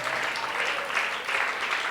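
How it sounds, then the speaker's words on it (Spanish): A church congregation applauds loudly and continuously, a dense wash of clapping that carries on without a break. "¿Cuánto le dan un aplauso fuerte a Jesús?"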